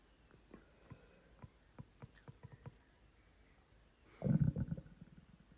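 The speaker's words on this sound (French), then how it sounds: "j'arrive pas à comprendre comment c'est possible qu'un ventre fasse ce bruit" A human stomach rumbling close up, a run of soft irregular gurgles and clicks that ends in one longer, louder low growl near the end, with no voices.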